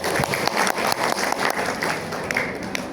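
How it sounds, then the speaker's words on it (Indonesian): Audience at the opening of a cooperative's annual meeting in Gresik applauding, a close, uneven patter of clapping with distinct individual claps standing out over a steady roomful of hands. "Tepuk tangan untuk beliau."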